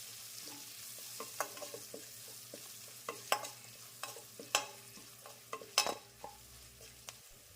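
A spoon stirs half a teaspoon of turmeric into green chillies frying in oil in a pan, with a steady soft sizzle and repeated scraping clicks of the spoon against the pan at irregular intervals, close and moderately loud, no talking.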